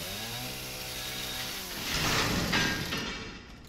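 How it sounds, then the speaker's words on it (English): Chainsaw in the Resident Evil 7 Biohazard Jack boss fight, a continuous harsh buzzing roar that swells louder midway and then eases slightly. "Oh, it broke my damn chainsaw in half"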